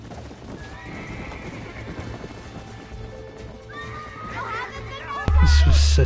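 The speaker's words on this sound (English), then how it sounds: "Let's go rope some horses just like in the good old days" Horses whinny and neigh in Red Dead Redemption while hooves clip-clop across the ground, with a voice talking over them and a sudden loud thump near the end.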